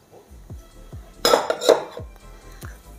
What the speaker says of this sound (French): Ensuite, les amis, on va venir mélanger notre farine